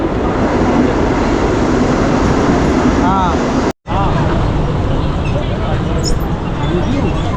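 A suburban passenger train bound for Dadar rumbles along steadily with broadband rolling noise and faint chatter, briefly cutting out partway through before the running noise resumes.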